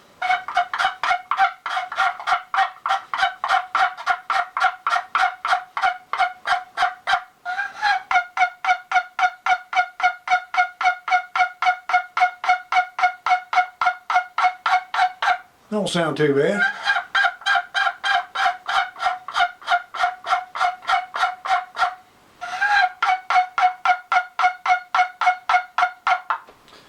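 A homemade turkey call produces rapid, repeated yelping notes in long runs, with a few pauses and a brief spoken remark partway through.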